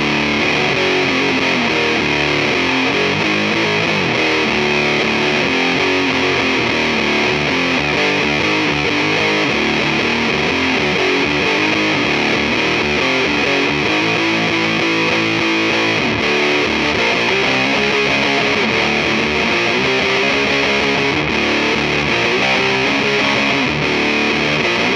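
A heavily distorted electric guitar through a Fuzz Face clone pedal, fitted with its stock input capacitor, plays continuously, thick and buzzy, with a constant hiss underneath.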